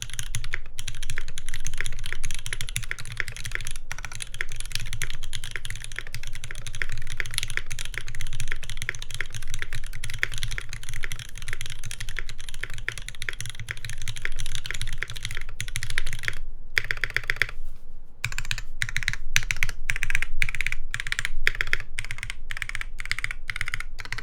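Rapid clacky keystrokes on a mechanical keyboard, steady and close, continuing for a long stretch with brief pauses and no voices.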